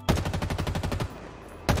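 Rapid automatic gunfire in the video game Halo Infinite: a fast, even burst of about a dozen loud close shots, a brief pause, then another shot starting.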